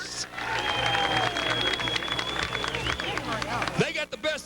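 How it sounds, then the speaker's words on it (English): Crowd applause at a 1998 stock car racing event at West Virginia Motor Speedway, heard under a loud announcer's voice over the public address, with a whistle-like tone and rumbling track noise mixed in. "How about a nice round of applause, Danville, Illinois."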